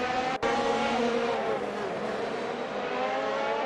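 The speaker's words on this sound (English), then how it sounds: "We should hear that engine roll back out onto the track soon." Formula 1 car engine from an AI-driven racing video game at COTA, a steady high-pitched whine with harmonic bands that holds loud and continuous, with a brief dropout near the start.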